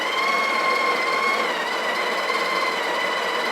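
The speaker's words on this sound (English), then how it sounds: "We're going to grind the beans." A Breville BES870XL espresso machine's built-in grinder steadily grinds coffee beans, a continuous close whirring drone with a bright tonal whine that holds level and unbroken throughout.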